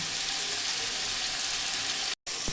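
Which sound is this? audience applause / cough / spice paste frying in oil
spice paste frying in oil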